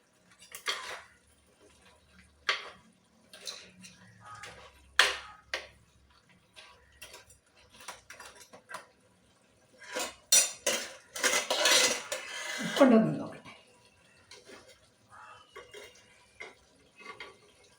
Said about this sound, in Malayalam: നമ്മുടെ ഞണ്ട് റോസ്റ്റ് ഇങ്ങനെ റെഡിയാക്കിക്കൊണ്ടിരിക്കുകയാണ് നമുക്കൊന്ന് ഇളക്കി കൊടുക്കാം